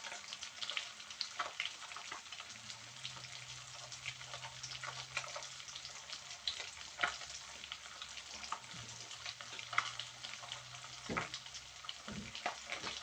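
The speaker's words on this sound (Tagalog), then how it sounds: "hintayin lang natin siyang mag-golden brown ang ating salmon" Salmon fillet frying in a pan, browning with black pepper and salt added, giving a steady close sizzle with occasional crackles and stirring sounds throughout, no talking.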